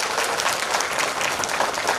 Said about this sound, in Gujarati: તાળીઓથી ગડગડાટ સાથે.